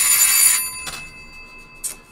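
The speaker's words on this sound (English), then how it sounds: "the doorbell is ringing" A doorbell rings with a bright, tonal chime that sustains at first and then fades, followed by a couple of faint softer rings.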